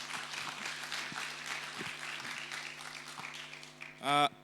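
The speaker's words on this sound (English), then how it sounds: "A round of applause for Dr. Nakuta." An audience at a media-complaints and misinformation talk applauds Dr. John Nakuta after his presentation, with steady, fairly distant clapping from a room full of people; a brief louder tonal sound cuts in near the end.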